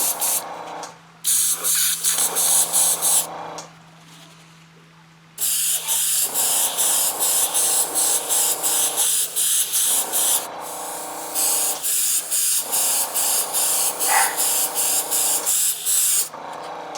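Steady hiss of an airbrush spraying paint onto a model body in long bursts, stopping briefly between passes, with a faint hum underneath and no talking.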